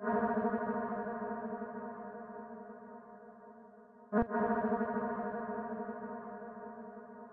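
A sustained, buzzy synth-like sample rings out with a reverberant tail in FL Studio, briefly cut by a sharp click midway before the tone resumes and slowly decays.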